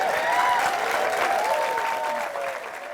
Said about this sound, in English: Can we just like pause and clap for American Revolutions?